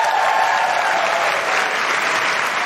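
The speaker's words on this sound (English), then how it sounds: "can I just have a big round of applause" Dense, sustained applause from a live audience at a recorded comedy show in Christchurch, New Zealand, a steady loud wash of many hands clapping at once.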